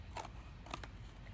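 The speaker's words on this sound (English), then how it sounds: "we're going to use our scissors to cut out the hole." Two quiet crisp snips of scissors cutting paper, close and faint, with near silence between.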